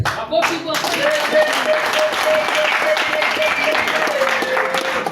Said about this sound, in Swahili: Basi makofi tena.